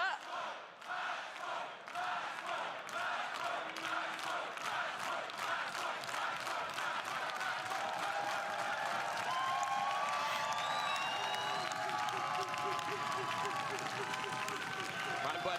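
A crowd at an Apex Legends ALGS Year 3 Split 1 Playoffs event chants a match point chant in steady rhythmic unison, loud and sustained, with cheering and a voice talking over it.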